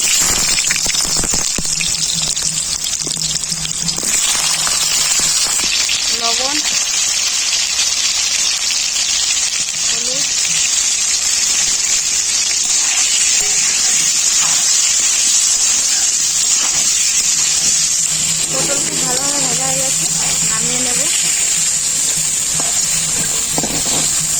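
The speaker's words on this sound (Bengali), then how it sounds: "তেল খুব ভালোভাবে গরম হয়ে গেছে পটলগুলো ভেজে নেবো" Loud continuous sizzling and hissing of pointed gourd frying in hot mustard oil, with occasional clinks and scraping of a utensil.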